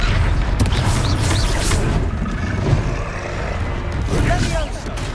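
A Confringo fire spell in Hogwarts Legacy goes off as loud booming blasts over a dense wash of combat noise and rumble, with character voices calling out over the action.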